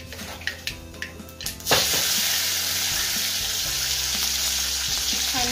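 Curry leaves hit hot oil already crackling with mustard seeds and cumin for a tempering: a few sharp pops and taps first, then a sudden loud burst of sizzling that settles into a steady, hissing fry.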